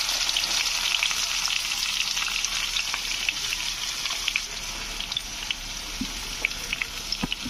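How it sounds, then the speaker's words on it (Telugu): Onion pieces frying in hot oil in a pan, a steady close sizzle with scattered crackles and pops throughout, heard alone without talk. "దీన్ని ఇప్పుడు బాగా ఫ్రై చేసుకుందాం."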